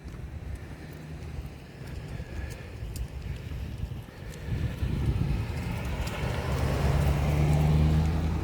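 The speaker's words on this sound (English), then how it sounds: "car driving by, the sounds, nice sunny day." A car drives past outdoors on a sunny day, its low road rumble swelling louder through the second half as it approaches, with no talk over it.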